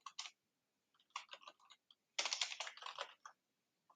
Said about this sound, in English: I need to type this actually